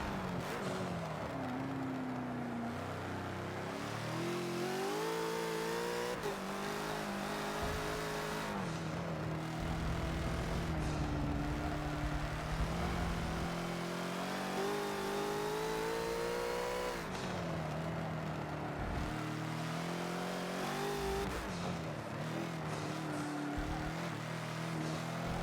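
A Bentley GT3 race car engine in Forza on the Catalunya GP track, a loud, sustained roar climbing through the revs, dropping abruptly at several gear changes and building again across the whole stretch, with no talk over it.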